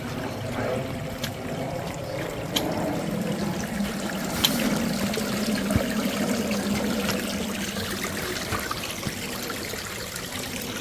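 Creek water flowing beside a hiking trail, a steady close trickle and babble running the whole time with a few brief splashes, with no talking.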